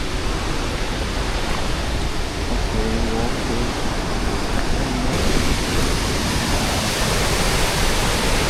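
A forest waterfall roars in a steady, dense rush of falling water that stays loud and unbroken, with no pauses, throughout.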